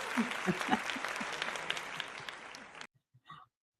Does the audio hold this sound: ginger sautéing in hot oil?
no